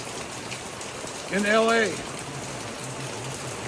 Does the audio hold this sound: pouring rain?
yes